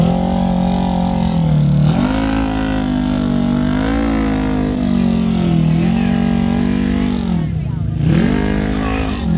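A heavy mud bog vehicle's engine chugs and drones loudly at close range as it idles through mud, its pitch rising and falling in slow swells, with a voice speaking over the engine.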